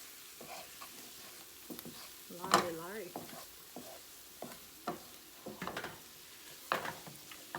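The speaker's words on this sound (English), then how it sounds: "I let my veggies saute for a minute" Vegetables sauté in a pan, sizzling softly with irregular stirring scrapes and clicks, quiet and close, with brief bits of background noise.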